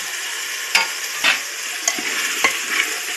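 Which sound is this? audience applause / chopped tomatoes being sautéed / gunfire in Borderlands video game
chopped tomatoes being sautéed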